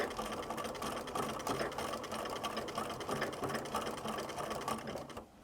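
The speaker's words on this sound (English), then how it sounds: "now I'm going to do a little bit more stitching to see how that looks" A domestic sewing machine stitching an invisible machine appliqué, running in a steady fast whirring rhythm at close range for several seconds before stopping abruptly, no voice.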